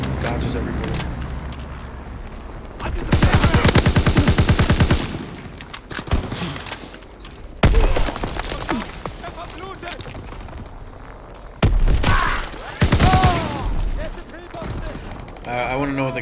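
Loud bursts of rapid gunfire from Call of Duty WWII come in several volleys, separated by quieter stretches, with a voice talking throughout.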